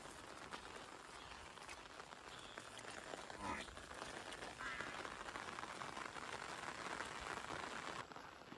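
Rain falls steadily outdoors near a lake where buffaloes are wandering, making a soft, even patter that is faint and continuous throughout.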